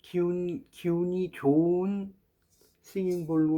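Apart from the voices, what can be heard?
None of the usual background noises is heard.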